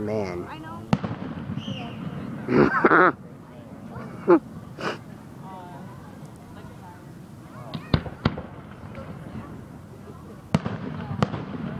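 Fireworks burst at an outdoor display at Bemus, with several sharp booms and crackles spread out, some distant, while people talk and react nearby.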